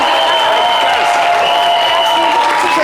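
Studio audience applauding and cheering a guest on a French-language variety talk show, a steady dense wash of clapping and crowd noise filling the room throughout.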